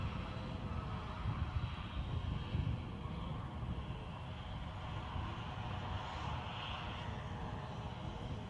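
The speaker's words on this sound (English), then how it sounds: "I thought that Ryanair sounds like it's moving quite briskly too." A Ryanair airliner taxies briskly at Edinburgh Airport, a fairly faint, steady engine rumble and whine holding level throughout, with no talking.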